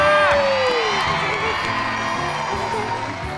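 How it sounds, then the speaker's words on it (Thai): A Thai TV studio audience cheers and whoops as a young guest actress is welcomed, a loud burst with a rising shout at the start settling into steady crowd noise and clapping that tapers off. "ขอเสียงปรบมือกับน้องนาน่าสวัญญา"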